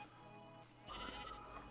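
Sheep in the Minecraft video game bleat faintly, a short wavering cry rising after a quiet start, with further soft bleats behind it.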